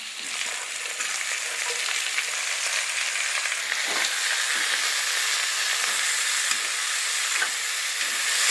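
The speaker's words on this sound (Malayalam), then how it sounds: "കിഴങ്ങ് അല്പം വഴറ്റിയ ശേഷം നമുക്ക് അരിഞ്ഞു വെച്ചിരിക്കുന്നതായ കോളിഫ്ലവർ അതിലേക്ക് ഇടണം" Potato and chopped cauliflower sautéing in a pan for aloo gobhi, a steady broadband sizzle and frying hiss throughout with a few faint stirring scrapes, close and even, no voices.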